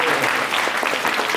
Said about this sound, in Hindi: बजाइए तालियां